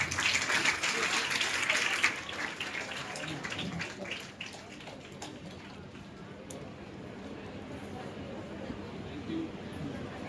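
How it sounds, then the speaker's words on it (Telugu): An audience breaks into applause at a free-coaching student celebration, a dense wash of many hands clapping that is loudest in the first two seconds, then thins and settles into steadier, softer clapping. "అందరూ చప్పట్లు కొట్టడం"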